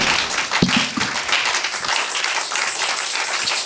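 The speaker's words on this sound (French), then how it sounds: "Acclamez pour Jésus." A church congregation clapping and applauding for Jesus, a dense, loud wash of many hands in a large room, sustained for several seconds with no speech.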